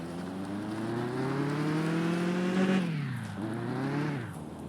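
A car engine in the video game Mon Bazou drives along a dirt road, its tone rising steadily as it revs, dropping sharply when the gear shifts, then climbing again, loud and close without any talk.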